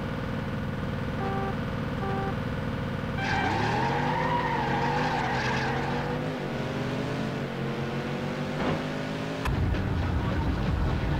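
Race car tires skidding and squealing in the PS2 racing game Test Drive Overdrive, long wavering screeches over a steady engine drone, loud and close, ending in a sharp burst.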